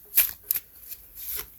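A deck of playing cards being shuffled by hand, two quick riffling bursts followed by a softer, longer shuffle, close and alone with no talking.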